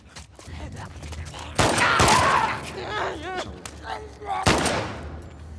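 Gunfire in The Last of Us Part II, a few sharp loud shots and bursts mixed with game sounds and clattering, with a person talking over the action.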